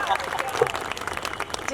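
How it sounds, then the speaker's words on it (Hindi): Audience clapping at a Hindi poetry gathering in Surat after a devotional song, a dense steady patter of many hands under a voice. "भजन समाप्त, तालियां बजाइए"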